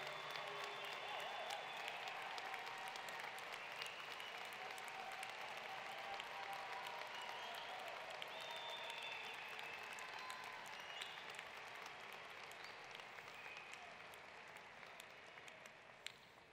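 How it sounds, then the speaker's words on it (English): Sustained, dense applause from a large crowd at a college commencement ceremony, steady and loud throughout the full stretch before gradually thinning toward the end. "give them a big round of applause"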